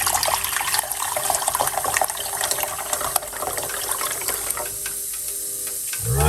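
Steady rush of hot water running and filling a cup, continuous and close, with a brief shift in tone near the end.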